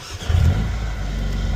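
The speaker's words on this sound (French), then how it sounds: "On démarre la voiture." A car engine catching and starting up, a brief low burst of cranking followed by a steady near idle hum, alone without voices.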